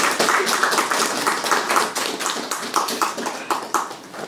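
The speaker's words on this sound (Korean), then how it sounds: "여러분 큰 박수 부탁드립니다." A crowd claps together in brisk, lively applause, a dense patter of hands that fades slightly toward the end.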